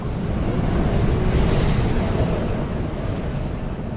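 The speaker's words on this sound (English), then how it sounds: "There's a storm going off." Roaring storm wind in the sci-fi survival game Dune Awakening, a loud, steady broadband rush like surf and gusting wind that holds for the whole stretch with no talk.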